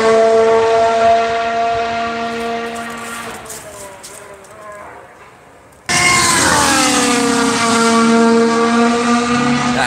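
Mercedes W10 Formula One car engine during 2019 testing: high-pitched whining engine note rising and falling through gear changes as the car passes, loud and alone.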